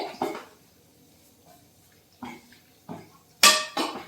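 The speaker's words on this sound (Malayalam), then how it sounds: "അപ്പൊ ഇതൊന്ന് ഇളക്കി കൊടുക്കാം അതൊന്ന് തിളച്ച് വരട്ടെ" A spoon knocks and scrapes against a cooking pot while a sweet ripe jackfruit mixture is stirred, a few separate clattering bursts between quiet pauses, close by.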